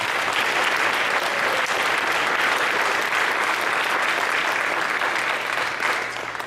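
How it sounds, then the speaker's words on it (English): An audience at a high school concert band's spring concert applauds steadily, with dense, sustained clapping that fills the hall at a loud, even level for the whole stretch and tapers slightly at the end. "Let's give them another round of applause."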